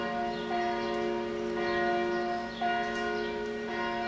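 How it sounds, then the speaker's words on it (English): Church bells of St. Clement in Skopje, Macedonia, ringing in a steady series of overlapping tolls with long ringing tails, heard clearly from a moderate distance without any talk. "And what you're hearing are the bells of the Church of St."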